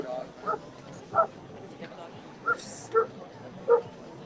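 A very little dog gives several short, sharp yips spaced about a second apart, with light background noise and a faint murmur of people outdoors.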